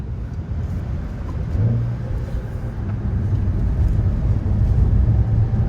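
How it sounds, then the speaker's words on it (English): Porsche 911 engine blipping its revs on a downshift, a steady loud engine drone that swells and rises through gears, heard from close by with no talk. "That blip on the down change would make you want to change gears more and more often."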